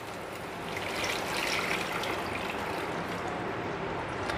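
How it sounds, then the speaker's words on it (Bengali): Hot water poured into a cooking pan holding eggplant for a Bengali fish curry, a continuous close splashing gush that swells slightly and holds steady, with no talking. "এবার আমি এখানে গরম জল অ্যাড করে দেব"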